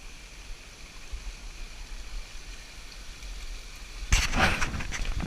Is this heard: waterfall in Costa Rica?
yes